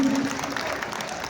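Audience applause fills a hall during a speech at a public event: a steady, dense wash of clapping, fairly loud and continuous throughout the short stretch.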